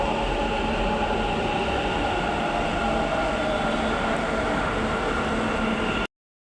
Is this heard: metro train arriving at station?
yes